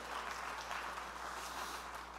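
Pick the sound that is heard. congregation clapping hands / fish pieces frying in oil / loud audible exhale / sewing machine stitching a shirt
congregation clapping hands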